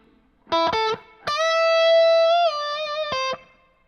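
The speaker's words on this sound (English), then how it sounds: "the Lexicon 224 Reverb plugin from my good friends over at Universal Audio" Electric guitar through an amp with a Universal Audio Lexicon 224 reverb plugin: a few clipped chord stabs, then a long sustained chord and a final stab, each trailing a short, subtle reverb tail.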